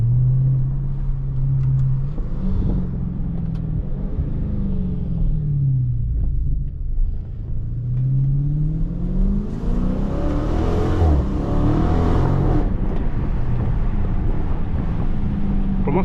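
A 2023 Dodge Charger Scat Pack Widebody Last Call cruises through a neighborhood, its deep engine rumble swelling and easing as revs climb and drop several times, loud and close from inside the car with no voices.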